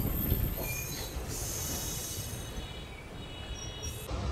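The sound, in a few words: Teesta Torsa Express train entering Bandel Junction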